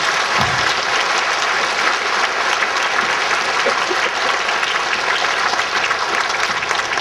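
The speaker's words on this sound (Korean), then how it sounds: "하나님께 한번 감사의 박수를 올려드리겠습니다" Congregation applauding in a church service, a dense, steady wash of clapping from a large crowd that carries on evenly throughout, close and loud.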